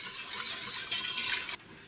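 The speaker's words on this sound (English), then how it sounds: "And just whisk well again until it's all well combined." A whisk stirs butter, flour and asparagus juice in a pot: steady, close scraping and swishing with a faint sizzle, ending in short pauses.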